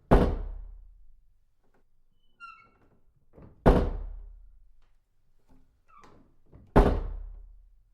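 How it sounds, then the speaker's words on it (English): A wind-blown door that won't fully close bangs three times at slow, uneven intervals, each a heavy, booming thunk that rings out, with faint creaks and rattles between. "and then the sound you're hearing is just the door."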